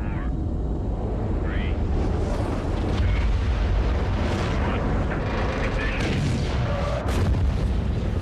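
In the film First Man, the Gemini 8 rocket launch sends a loud, continuous rumbling roar of engines with deep booming low end, while a narrator speaks over it throughout.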